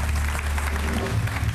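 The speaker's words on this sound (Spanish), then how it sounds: "un aplauso fuerte para él, por favor" A talk-show studio audience applauds former New York Yankees catcher Jorge Posada in a short, loud burst of clapping over a steady low hum.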